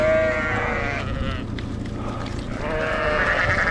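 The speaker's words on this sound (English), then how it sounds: "So Dad lets me and Chloe graze our sheep on that sort of ground" Sheep on rough grazing ground bleat loudly and close by, several overlapping wavering calls at the start and again toward the end, with a quieter stretch in between.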